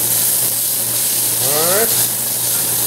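Smoked ham browning in a pan gives off a steady, loud sizzle and hiss, with a brief tonal squeak from stirring partway through.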